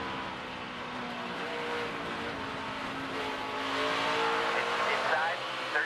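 At Bristol, a NASCAR Camping World Truck Series race truck engine drones fairly faintly with shifting pitch as it runs through the corners, under a commentator's voice.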